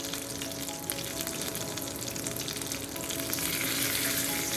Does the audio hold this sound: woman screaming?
no